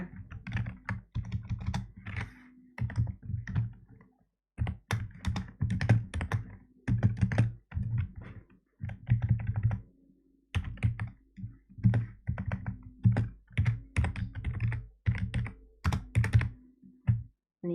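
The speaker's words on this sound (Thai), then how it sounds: "ตรงนี้เราก็พิมพ์อะไรก็ได้แล้วแต่เราเลย" Typing on a computer keyboard, steady bursts of close, crisp key clicks with brief pauses between runs, continuing throughout with no talking.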